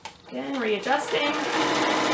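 A sewing machine stitching elastic onto fabric, running in a quick rising whir that settles into a steady, close mechanical hum for about two seconds.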